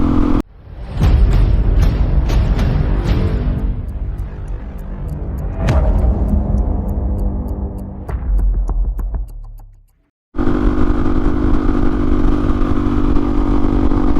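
A motorcycle riding on a mountain road near Lake Tahoe, California, its engine throbbing loudly and steadily, with ticking clicks and a brief dip to near silence before the engine roar returns.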